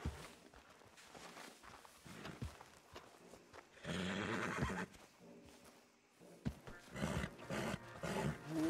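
A horse whinnies loudly in Red Dead Redemption 2, the neigh rising in the middle of the stretch and again near the end, with hoof clip-clop and background game ambience around it and no talking.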